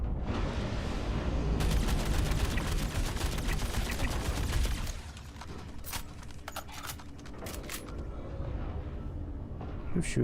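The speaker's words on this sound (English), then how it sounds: "Who's shooting at me?" Gunfire in the Star Citizen video game, a dense sustained volley of rapid shots for about five seconds, then quieter scattered sharp cracks and bursts, close and loud.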